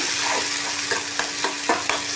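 Vegetables with paste and half a tomato for masala semiya fry in a pan, a steady bright sizzle broken by several sharp spatula scrapes and stirs.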